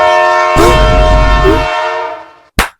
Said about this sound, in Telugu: ఆ ట్రైన్ వచ్చి మిమ్మల్ని గుద్దేస్తుంది